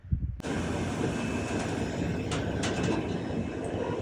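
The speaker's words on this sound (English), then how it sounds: "And now this little train's coming back." Steady loud rumble and rushing roar of an iron ore train going by close near Kiruna, Sweden, starting abruptly and holding constant throughout.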